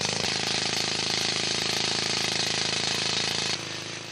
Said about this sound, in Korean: 먼저 지층에서 떼어낼 대리석의 윗부분과 아랫부분을 90도 각도로 뚫어서 와이어를 넣을 구멍을 만드는 작업이 진행됐다